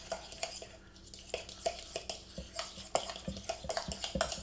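Fork mixing tzatziki sauce with dill in a bowl, a close series of quick clinks and scrapes against the bowl in an uneven, brisk rhythm.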